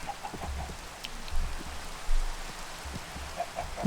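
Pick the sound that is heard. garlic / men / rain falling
rain falling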